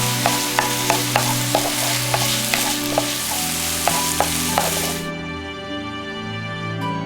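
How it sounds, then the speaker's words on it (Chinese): Shrimp with scallion and chili crackles in a hot pan as a utensil scrapes in a steady rhythm of quick strokes over background music. The frying fades after a few seconds. "再加入些香葱和小米辣一起翻炒。"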